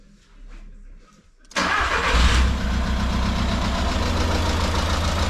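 A 1.6 TDI diesel car engine cranks and catches after a quiet moment, then settles into a steady, loud idle rumble that continues to the end.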